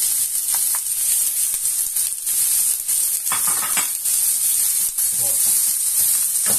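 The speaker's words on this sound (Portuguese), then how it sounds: "porque nós vamos estar fritando agora o bacon. E o bacon vai soltar gordura." Bacon sizzles steadily in lard in a pan while cooking for a pinhão farofa, with a loud, continuous frying hiss and crackle close by and a brief voice partway through.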